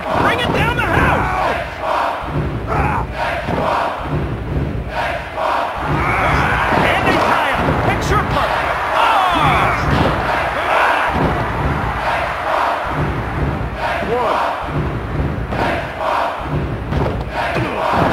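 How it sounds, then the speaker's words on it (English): Video game crowd roar in a WWF Attitude wrestling arena match, a dense, sustained wall of cheering and shouting that holds steady throughout, with rhythmic swells and thuds beneath. "And the crowd comes alive!"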